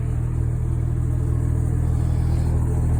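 A 2002 Lexus GS430 V8 with a Corsa dual-mode exhaust idles in a steady, deep, loud rumble, close by and unchanging throughout.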